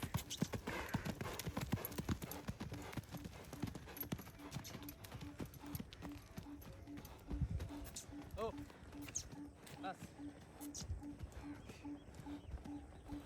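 A ridden mare clops along at a steady walking rhythm, hoof strikes close and regular for the whole stretch, with people talking over it.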